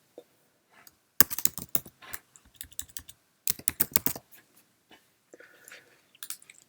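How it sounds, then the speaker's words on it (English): Typing on a Mac computer keyboard while composing an email, in quick irregular bursts of close, crisp key clicks separated by short pauses. "So let's type that out now."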